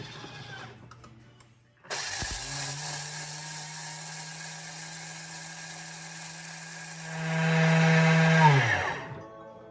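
An electric grain mill grinding spelt grain starts up with a sharp jolt and runs as a loud, steady whine, then rises in pitch and strain near the end before shutting off.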